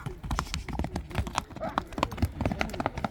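Hooves of a Kyrgyz horse clip-clop in a quick, steady rhythm of close, sharp strikes while voices talk over them.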